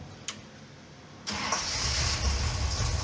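A 1969 Chevy Suburban's engine cranks and catches after a brief click, then settles into a steady, close idle that runs loud and continuous to the end, with no talking.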